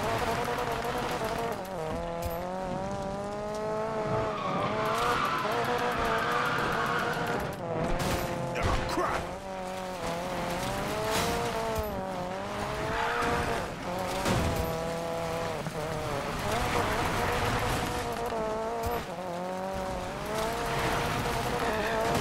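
Engine roar and squealing tires from a car drifting in Need for Speed Payback during a Speedcross event, a continuous loud rev with rising and falling pitch sweeps and repeated skid bursts throughout.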